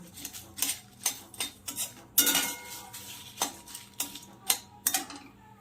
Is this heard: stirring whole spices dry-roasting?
yes